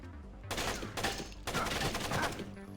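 Gunfire in the stealth game Splinter Cell (2002, Xbox), with two loud bursts of shots in quick succession, one around the half-second mark and another a second later, each ringing out briefly.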